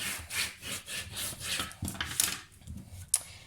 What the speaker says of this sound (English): you want to burnish that down very well